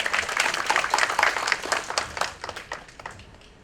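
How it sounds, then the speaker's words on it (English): An audience in an auditorium at an idea pitch event gives a round of applause for a team, many hands clapping loudly and then tapering off to scattered claps. "Please give a round of applause for Team Egness."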